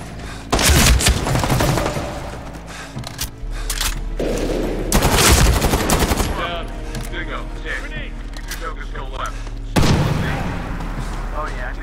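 Heavy gunfire and explosions from the Medal of Honor Warfighter shooter game, with bursts of automatic fire and booming blasts crowding a dense battle mix while a voice talks over it.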